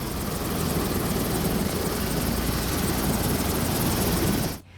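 A police helicopter on standby for the Indonesian Independence Day ceremony in IKN, with a loud, close rotor and engine roar that holds steady and then cuts off abruptly at the end.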